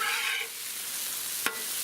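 Chicken sausage and peppers sizzle on a Blackstone griddle, a steady close hiss of frying with a brief scrape partway through and no talk.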